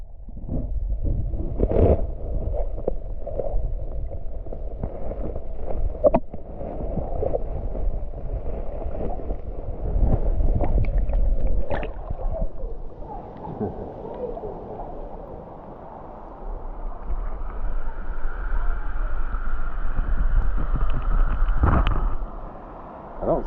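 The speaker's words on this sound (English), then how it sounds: "Look at them waves." Water churns and sloshes around a small boat on a cold river or lake, a steady near rush with gurgling surges, wind buffeting the microphone and occasional knocks from the hull.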